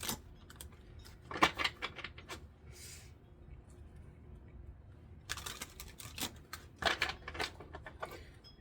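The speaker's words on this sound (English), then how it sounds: "I'm going to shuffle it one more time because that's what I'm being told to do." Stiff tarot cards are shuffled in two bursts of quick, crisp riffling clicks, close and fairly quiet, separated by a calm pause.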